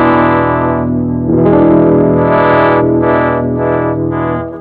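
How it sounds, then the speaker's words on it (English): An electric guitar on the bridge pickup of a Baldacci solidbody rings out as the tone knob is rolled back and forth. Sustained distorted notes swell brighter and duller in a wah-like sweep, then choppier bursts follow, loud and alone. "When you can roll it and it sounds like a wah-wah pedal and is smooth from like the two extreme points"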